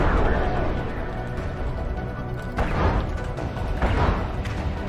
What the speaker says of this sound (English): the explosion sounds are coming through as if they were in normal atmosphere